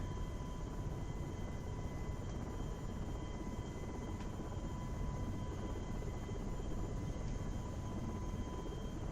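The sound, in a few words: helicopter flying in FSX/P3D flight simulator video game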